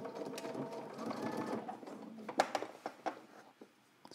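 A sewing machine stitches trench coat pieces with a steady whirring run for about two seconds, then slows into a handful of separate clicks and short taps, close and alone.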